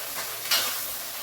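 Chopped onions sautéing in a pan for chicken gravy, a steady soft sizzle with one brief louder stir or scrape midway; short and fairly quiet, no talking.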